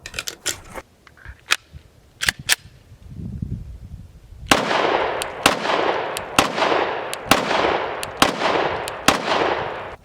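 Glock 20 Gen 4 10mm pistol fired at an outdoor range: sharp, loud reports, a few spaced apart at first, then a steady string of evenly timed shots with ringing decay.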